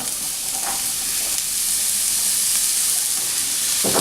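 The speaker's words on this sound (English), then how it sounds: "Once you get that sizzle on there, we can go ahead and add our mushrooms" Steady, bright sizzling of food frying in a hot pan, continuous throughout with a few faint stirring clicks and no voices.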